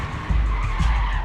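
A truck in a video game cutscene skids as it drives into a hollow in an old oil field area, a loud, sustained rumbling screech with low engine roar across the whole moment.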